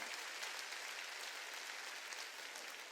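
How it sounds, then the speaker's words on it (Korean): Church congregation applauding during a Wednesday worship service, a steady dense wash of clapping that holds evenly for the whole stretch with no voices over it. "박수."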